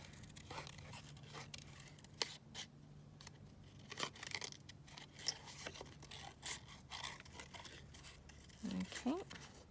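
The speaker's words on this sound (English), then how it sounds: "let's just cut it out and see" Scissors snip through paper for a glue book page in short, quiet cuts spaced irregularly, with a soft voice talking in the background.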